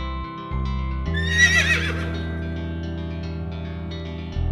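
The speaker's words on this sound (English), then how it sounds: "H for horse." A horse neighs once, loud and close, a long shaky whinny that rises sharply and trails off, set against a steady low background tone with a faint hoof-like rhythm.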